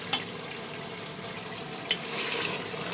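Pieces of meat with arvi (taro root) frying in ghee in a pan, giving a steady soft sizzle throughout with a couple of faint clinks and a slight rise near the end.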